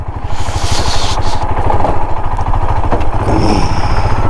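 A motorcycle ridden along a rough rural road, its engine thrumming loud and steady close by with a continuous pulsing note and some clatter.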